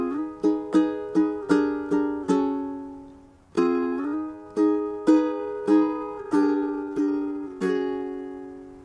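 Ukulele chords sound alone, close and clear, as a steady run of bright strums and plucked notes ringing out in rhythm, with one short pause near the middle.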